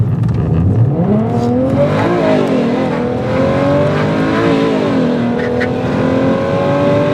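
A tuned BMW on a methanol-injection tune accelerates hard, heard from on board. The engine roars loudly and continuously, its pitch climbing through the gears with no talk.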